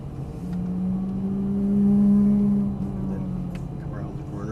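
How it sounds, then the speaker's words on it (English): A Lamborghini Gallardo Superleggera LP570-4 pulls away from a stop, its engine note rising steadily and swelling loudest midway before easing back, heard close from inside the car. "You have to add some throttle to make it roll, and then you'll feel the clutch let out for you."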